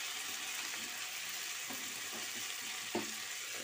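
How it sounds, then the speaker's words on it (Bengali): Mixed winter vegetables (beetroot, potato, carrot, beans, flat beans and spring onion) frying in a pan, a steady close hiss and sizzle with a few soft clicks and one sharp knock of a utensil, no talk. "এগুলোকে ভালো করে আবার ভেজে নেব"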